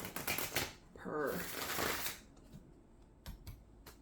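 Tarot cards being shuffled up close, a dense riffling rush followed by softer slides and taps as single cards are picked, with a voice talking over part of it.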